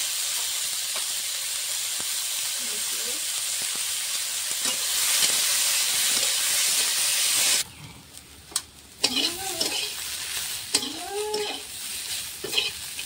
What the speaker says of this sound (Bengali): আলু, বেগুন, লঙ্কাটা ভালো করে ভাজা হয়ে গেছে